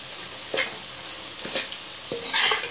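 Kerala-style mango pickle ingredients frying in oil, a steady low sizzle broken by three distinct spatula scrapes and stirs spaced about a second apart, close and without voices.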